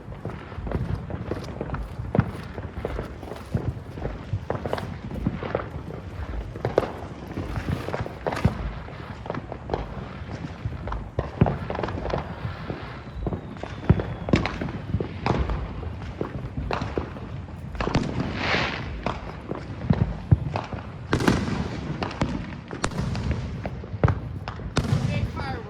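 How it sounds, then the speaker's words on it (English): Big Fireworks Red Super Balls novelty fireworks go off outdoors as a dense, continuous run of pops and bouncing thuds, with voices heard intermittently over them. "I got a novelty item for you tonight from Big Fireworks called Red Super Balls."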